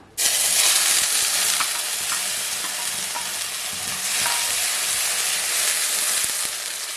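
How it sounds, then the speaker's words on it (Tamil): Ground ginger sautés in hot ghee for homemade ginger candy, giving a loud, continuous sizzle and hiss with occasional stirring scrapes throughout. "நெய் நல்லா சூடாயிடுச்சு இப்போ அரைச்சி வச்ச இஞ்சி சேர்த்துக்கலாம்"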